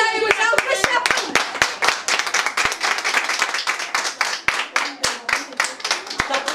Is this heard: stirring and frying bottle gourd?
no